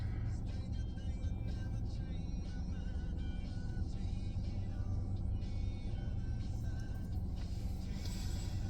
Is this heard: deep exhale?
no